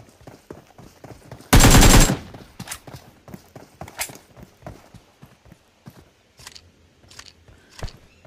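Shotgun fire in the mobile battle royale game PUBG Mobile, heard as one loud, sharp blast that rings for about half a second, followed by smaller scattered shots and clicks.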